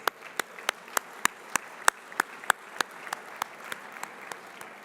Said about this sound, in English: They certainly are entitled to great applause.